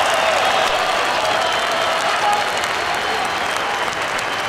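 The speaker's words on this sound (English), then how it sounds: "The crowd are on their feet." A packed arena crowd roars and cheers continuously at an M-1 Challenge MMA fight, a dense, loud wall of applause and shouting that holds steady throughout.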